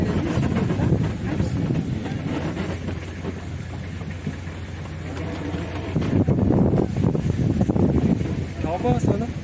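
A tractor ride: a steady engine rumble runs throughout with low mechanical drone and rattling, voices talking over it, louder bursts of chatter near the end.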